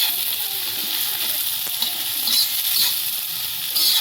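Onions fry in a pan with a constant bright hissing sizzle, close and fairly loud, broken by a few soft stirring scrapes and small pops, with no talking.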